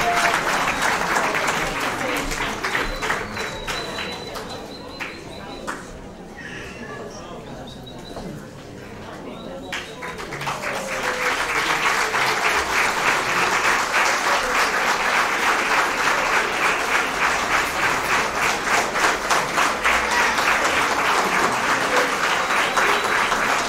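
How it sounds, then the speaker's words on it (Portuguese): Audience applause at a carnival dance performance in Terceira, Azores, loud sustained clapping that dips briefly, then swells back up and holds steady. "Uma salva de palmas para ele."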